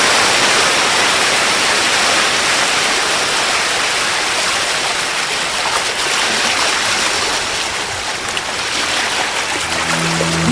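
A seashore sound effect plays on a Lahore FM radio show, a loud, dense wash of surf and water that rolls on without a break and swells and ebbs a little as it goes.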